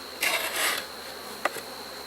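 Honey bees in a hive with a new queen laying two weeks in give short bursts of buzzing close by, one longer hum followed by a brief second one over quiet background.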